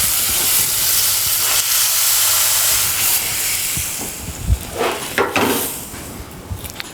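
White wine hits browned lobster carcasses in a hot pan with a loud, steady steaming hiss that fades into softer sizzling and a few clattering stirs toward the end.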